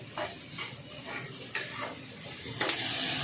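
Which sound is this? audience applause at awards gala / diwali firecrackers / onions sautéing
onions sautéing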